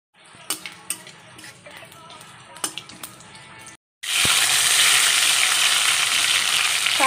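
Whole garam masala, bay leaf, cumin and dried chillies drop into hot oil for Bengali aloo dum, cooked in the dark during a power cut. Light clinks of utensils come first, then a sudden loud, steady sizzle fills the second half.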